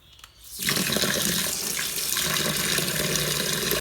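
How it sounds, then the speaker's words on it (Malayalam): Cut vegetables being washed under a running kitchen tap; water gushes on abruptly and pours steadily, splashing loudly and close for several seconds with no talking. "ഇനി നമുക്കിത് കഴുകി വൃത്തിയാക്കാം."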